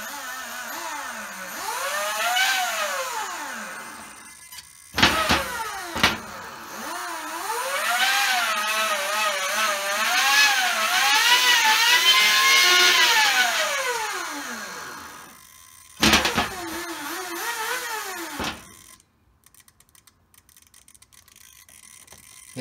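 An RC car's electric motor driven by a Mamba X ESC whines up and down in pitch with each throttle push, a rising-and-falling whir broken by brief clicks and pauses, close and fairly quiet.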